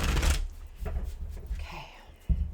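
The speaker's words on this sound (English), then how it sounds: "One more shuffle." Tarot cards are shuffled close up, a quick burst of riffling followed by softer handling and a sharp tap as the deck is squared.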